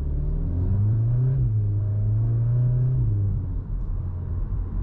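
Engine and exhaust of a 2023 Cupra Formentor VZ with 310 hp in Cupra mode, a steady deep drone that swells in pitch as the revs rise, then settles lower, loud and continuous with no talk.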